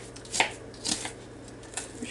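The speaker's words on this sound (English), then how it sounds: "Going to cut up these onions" A knife chopping onions on a cutting board for pineapple baked beans, giving a few separate close taps with short pauses between them over a quiet background.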